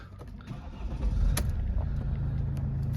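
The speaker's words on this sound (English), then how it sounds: "Start the car up." A Mercedes-Benz E220 CDI diesel saloon with a 2.1-litre engine and manual gearbox starts up: a low rumble swells about a second in, then settles into a steady close idle with no talking.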